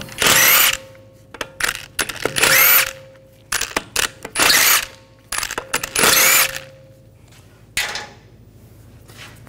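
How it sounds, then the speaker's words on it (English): Power tool with a 17 mm socket loosening lug bolts on a 2011-2018 Volkswagen Jetta, loud close bursts of whirring separated by pauses and small metallic clinks, no talk. "Now we're going to remove the lug bolts."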